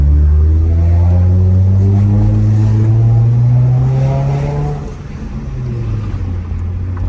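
8th-gen Toyota Camry with a Borla cat-back exhaust revving up, a loud, close, deep exhaust tone whose pitch climbs steadily for several seconds, then drops back to a lower idle-like rumble.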